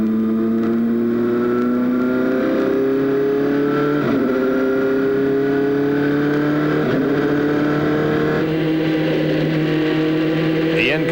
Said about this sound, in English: In-car camera carried by Scott Goodyear as he scuffs up the tires and keeps the heat in them